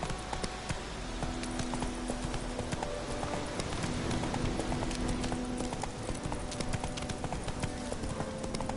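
A horse gallops in a video game, rapid rhythmic hoofbeats running continuously over a dense, noisy bed of ambient game sound, steady in loudness throughout.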